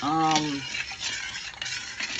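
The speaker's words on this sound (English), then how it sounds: "And I'm just stirring." A spoon stirs cornmeal porridge made with coconut water in a pot. The stirring gives steady scraping and soft clinks against the pot, close and fairly loud, with a brief tonal sound at the start.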